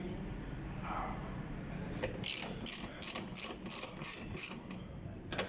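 Ratchet tool loosening bolts, a series of quick close clicking bursts in several short runs over low background noise, fairly quiet and without talk.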